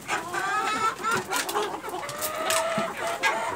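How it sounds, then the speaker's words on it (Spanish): Free-range native chickens clucking and chattering close by while eating corn, a busy flock calling over one another with scattered short squawks. "Como pueden ver, acá ya están comiendo, ya estamos dando el maíz."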